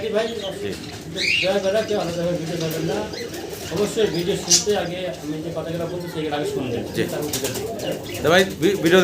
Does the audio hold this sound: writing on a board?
no